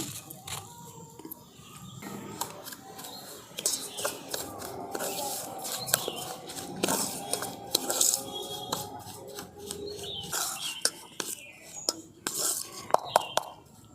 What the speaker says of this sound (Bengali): আমি এই সুজির সঙ্গে খুব ভালোভাবে এই টক দইটাকে মিশিয়ে নিচ্ছি